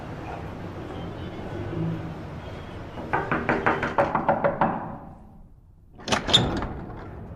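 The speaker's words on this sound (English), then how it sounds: "Hey, Ladan, what did you close the door for?" A door rattles through a series of rapid clacking knocks, then after a brief lull it closes with a sharp, close slam.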